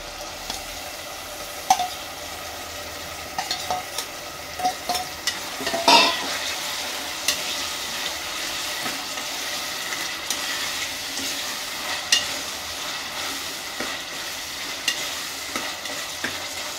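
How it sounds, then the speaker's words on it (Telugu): Mutton sizzles and fries in a pan with ginger and garlic, a steady crackling hiss close by, with scattered sharp clicks and scrapes of a spoon stirring it. "అల్లం ఎల్లిగడ్డ కొంచెం ఫ్రై అయినాక మటన్ వేసేసుకున్నాం"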